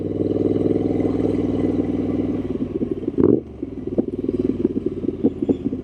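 A Triumph Street Scrambler 900 motorcycle engine runs close by with a steady, throaty idle, then after a brief bump settles into a rougher, pulsing beat.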